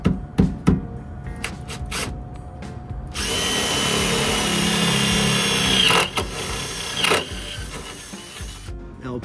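A few scattered clicks and taps, then a power drill whirs steadily for several seconds, drilling a hole for small stainless bolts while fitting a propane tank to a van, stops, and gives a couple of short bursts.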